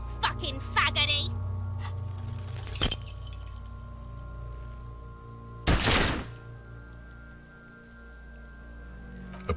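A single sharp gunshot from a handgun in the detective game Disco Elysium, a loud broadband crack standing out over rainy ambience and a low musical drone, with a brief echo trailing off.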